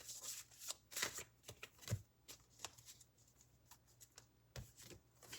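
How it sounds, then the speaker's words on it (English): A tarot deck is shuffled by hand, giving a series of soft, quick riffles and papery slaps in irregular bursts, faint and close with no voice over them. "And I've shuffled these cards."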